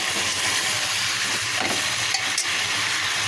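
Water poured onto fried chicken in a pressure cooker, producing a broad, steady hiss and sizzle with light stirring clatter, close and fairly loud.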